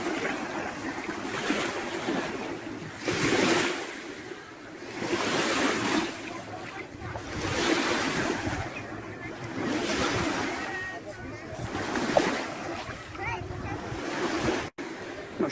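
Waves wash steadily onto a sandy, shingle-free beach on Skiathos island, rising and falling in broad surges every few seconds, with wind buffeting the microphone throughout.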